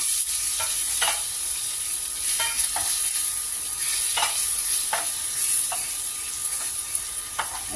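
Curry leaves frying in hot oil crackle and hiss steadily at close range, with repeated light stirring scrapes every second or so throughout; no speech.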